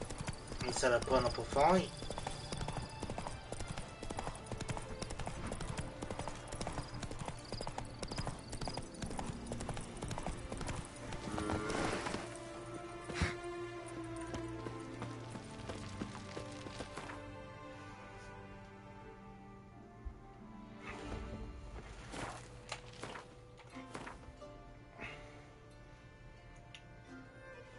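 Roach, the horse in Witcher 3: Blood and Wine on PS5, gallops with steady, loud clip-clopping hooves that fade later, under game music and someone talking.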